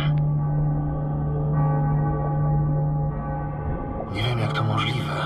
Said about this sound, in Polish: Nie wiem, jak to możliwe, ale ja chyba słyszę te dzwony.